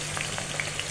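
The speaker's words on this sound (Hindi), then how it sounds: "अभी फ्राई हो रही है" Okra fries in a pan with a soft, steady sizzle and a few faint crackles, quiet and close, for under a second.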